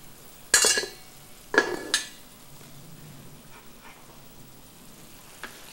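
Meat sauce thickened with a flour-and-water mix is stirred in a pan: three quick scraping strokes near the start, then only a faint simmer with a couple of soft clicks.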